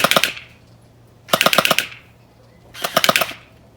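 Gel ball blaster shots strike a target in three rapid bursts of sharp cracking snaps, each burst about half a second long with short pauses between, loud and close.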